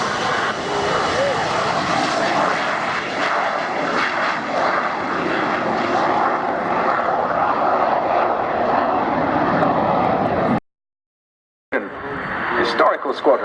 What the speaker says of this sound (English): The Vampire pair, the T-55 and the